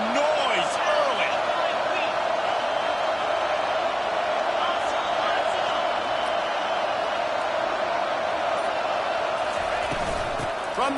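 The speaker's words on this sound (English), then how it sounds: "This crowd bringing the energy and noise early." A football stadium crowd keeps up a steady, dense roar throughout, with a commentator talking over it.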